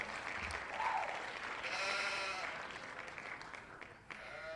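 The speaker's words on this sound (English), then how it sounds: "What did the sheep say?" Sheep bleating plays as a soundbite during a livestream, one short wavering bleat over a busy noisy background, moderately loud and brief.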